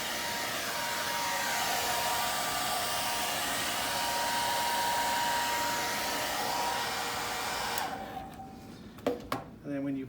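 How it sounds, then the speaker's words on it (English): Steady loud whoosh of a hairdryer blowing over wet paint runs continuously up close, then switches off near the end, leaving a few faint clicks and handling knocks. "you can use a hairdryer"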